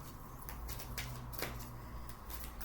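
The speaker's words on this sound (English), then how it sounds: "They take a bit to shuffle." Large oracle cards are shuffled close by in quiet, with soft repeated riffling and papery slaps in short bursts.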